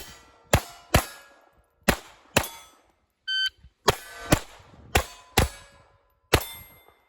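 Shots from a Tanfoglio Force 22L pistol at a shooting range, about ten sharp loud cracks fired one at a time at irregular intervals with metallic ringing, and a brief electronic beep partway through.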